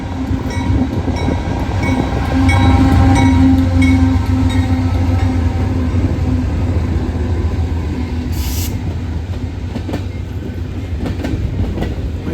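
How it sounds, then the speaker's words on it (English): Freight train CN A491, led by a CSX AC4400 locomotive with a CSX standard cab Dash 8, rolls past nearby with a loud, steady rumble, engine drone and wheel clatter that gradually eases. "here's CN A491, led by a CSX AC4400, and the only CSX standard cab Dash 8"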